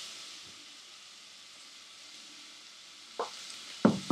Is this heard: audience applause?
no